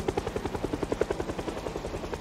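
A helicopter flies overhead in a zombie survival video game, its rotor thumping in a fast, steady rhythm, loud and close throughout.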